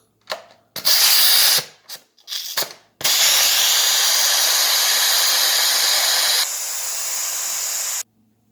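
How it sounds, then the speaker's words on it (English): An Instant Pot's silver pressure release valve vents steam in a few short loud hissing bursts, then a long continuous hiss that drops in level before stopping abruptly. "To relieve the pressure from the Instapot, you have to press the silver valve on top"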